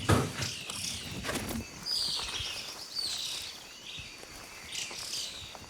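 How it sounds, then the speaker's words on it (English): Antbirds calling near an army ant swarm in a Central American forest, a series of clear high chirps and whistled notes repeating at intervals over a rustling insect background. "I can hear some ant birds."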